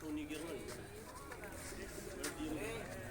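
Soft, low pigeon coos repeat throughout in Dhanansu village, Punjab, with a murmur of voices and general outdoor background noise around them.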